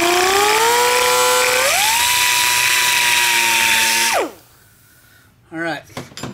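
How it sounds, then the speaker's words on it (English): A rotary tool fitted with a burr bit cuts into a metal bearing race. Its loud whine climbs in pitch, holds steady for a few seconds, then winds down and stops, followed by a few brief, scattered sounds. "take a burr bit that can cut that metal"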